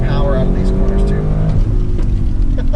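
Audi RS6 Avant engine powering out of corners, a steady loud drone with rising and shifting tones throughout, heard from inside the car under continuous talking.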